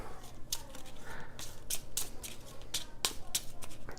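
Playing cards for a deckbuilding board game are shuffled close by, giving a run of soft riffling flutters and sharp card snaps in an uneven rhythm.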